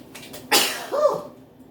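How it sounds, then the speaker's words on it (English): A single sharp sneeze bursts out close by, followed by a short voiced exhale or sniff as it fades. "I had to sneeze."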